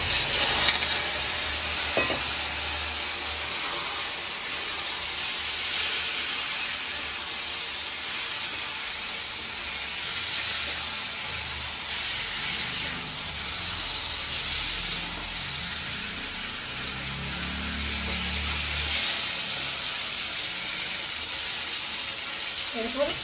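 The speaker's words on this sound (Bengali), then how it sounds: "পেঁয়াজ আমার ভাজা হয়ে গেছে, এবার দিয়ে দেবো ম্যারিনেট করে রাখা চিকেন।" Marinated chicken sizzles in a pan of fried onions, a loud, continuous hiss of frying with occasional stirring that stays steady throughout.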